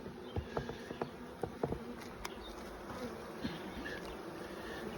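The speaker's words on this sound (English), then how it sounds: "Bees hard at work." Honeybees buzz steadily at an open hive during a frame inspection, a dense near drone of many insects with brief louder passes as individual bees fly close to the microphone, with no talk.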